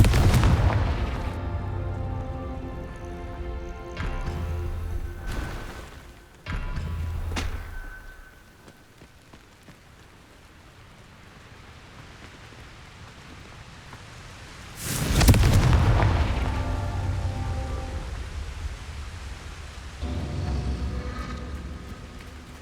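Confringo fire spells in Hogwarts Legacy set off loud, booming explosions: a cluster of heavy blasts at the start, two more bursts around five to seven seconds, then a big detonation near fifteen seconds trailing into rumbling decay.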